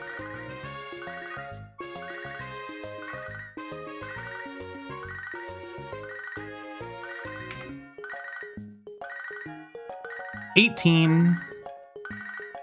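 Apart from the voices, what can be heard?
phone ringing in video game Pokemon HeartGold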